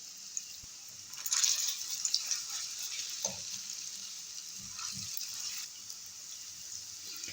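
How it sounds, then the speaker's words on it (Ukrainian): Carrot patties sizzle and crackle steadily in hot sunflower oil in a pan, with a few soft clinks and a louder burst of frying partway through. "налила соняшникову олійку і мокрими руками виложимо в сковорідку наші котлети"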